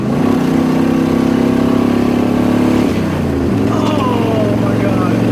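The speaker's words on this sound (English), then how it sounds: "I'm driving the GMC right now" A GMC truck engine drones loud and steady while driving, dropping in pitch partway through as the load eases, then holding a lower, even hum to the end.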